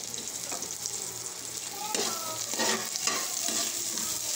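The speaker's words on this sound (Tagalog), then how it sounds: "Tapos saka ako na isunod yung sibuyas." Sliced onions sizzle and crackle steadily in hot cooking oil for mussels, with scraping stir strokes of a utensil against the pan rising midway, close and fairly loud throughout.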